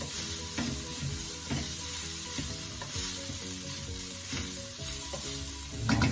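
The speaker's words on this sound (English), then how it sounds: "After that 2 to 3 minutes, I'm just going to give that a stir." Curry saltfish sizzles steadily in a pan while being stirred, with soft scraping strokes throughout and background music playing over it.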